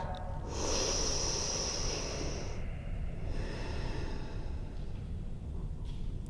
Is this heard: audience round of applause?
no